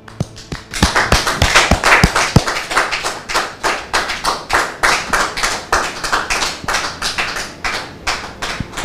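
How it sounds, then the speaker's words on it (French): A studio audience on a French-language TV show applauds with loud, close, rhythmic clapping that keeps a steady beat throughout. "Le public, merci de le recevoir avec vos applaudissements."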